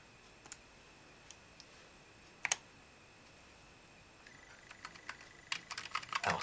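Keys clatter on a USB keyboard plugged into a TI-83 Premium CE calculator running OS 5.1.5, a few isolated taps at first, then a quick burst of close, crisp clicking toward the end, with no voices.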